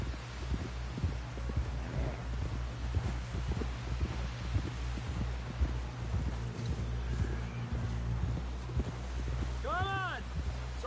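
Horse hooves clip-clop in a steady, rhythmic gait under low rumbling music and character voices in a PS4 video game.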